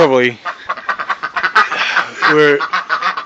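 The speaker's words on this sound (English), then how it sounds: "There's the aviary birds here." Ducks and other aviary birds quack and honk in quick, loud bursts close by, with a person talking over them.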